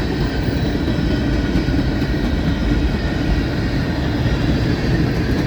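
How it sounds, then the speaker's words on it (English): A long, loaded CSX freight train rolls past at Folkston in a loud, continuous rumble of wheels and cars, steady and close throughout with no talking. "Oh yeah, there's a long train."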